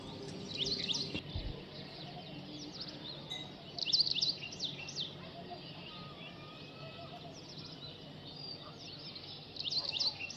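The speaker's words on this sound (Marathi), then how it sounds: "पक्ष्यांच्या गोड किलबिलाट" Morning birds chirp in short, high, scattered bursts, fairly faint and distant, over a steady outdoor background hum that fills the gaps between calls.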